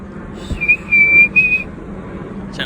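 A person whistles a single sustained, steady note toward a long-necked bird outdoors, clear and close over faint background rumble, lasting about a second with slight breaks.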